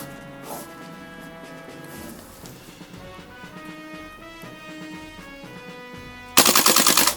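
King Arms M2 Paratrooper airsoft gun fires one loud, rapid full-auto burst at the very end, cutting sharply over steady background music.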